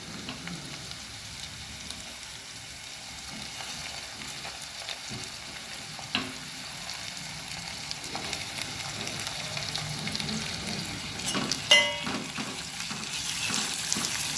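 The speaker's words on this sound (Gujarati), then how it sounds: "કોબીજ થોડું લાઈટ બ્રાઉન થઈ જાય એટલે એમાં એડ કરીશું ગ્રીન લીલી ડુંગળી અને" Cabbage fries in a pan with green onion and peas, a faint steady sizzle with occasional soft stirring scrapes and a brief clatter near the end, no talking.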